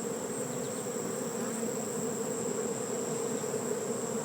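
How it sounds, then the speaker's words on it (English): A swarm of honey bees scattered over a small patch of ground, flying and scenting, making a dense, steady buzzing drone that holds constant and close throughout. "just bees here, bees there, bees flying, bees scenting"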